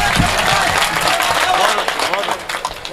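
Audience applause at a mushaira poetry recital in Badnera, a dense sustained wash of clapping filling the hall, with voices and crowd murmur mixed in beneath it.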